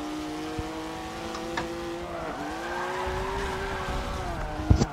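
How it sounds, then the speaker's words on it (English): Cars drift racing in the video game Forza Motorsport 7, a steady engine drone with shifting pitch and rising tire squeal, a few knocks and a louder bump at the end. "Drift racing in Forza Motorsport 7"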